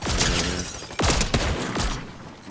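Rapid bursts of gunfire in Fortnite Chapter 5, a few loud volleys of shots crackling close in a dense, sustained barrage with no talk.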